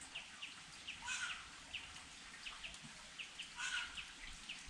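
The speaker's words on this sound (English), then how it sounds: "The sounds of those birds that are up in the tree. They're called wattle birds." Wattlebirds call from a tree in faint, repeated chirps and harsher squawks scattered across the clip, heard at a distance over quiet outdoor background noise.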